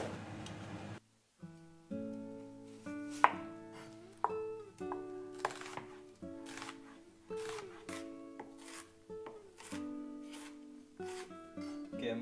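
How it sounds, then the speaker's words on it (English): A knife chops hot dogs into small pieces, giving a string of crisp, irregular cuts against a quiet tonal background. "I'm also chopping the hot dogs, small pieces"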